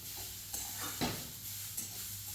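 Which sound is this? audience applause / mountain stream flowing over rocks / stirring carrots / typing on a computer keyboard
stirring carrots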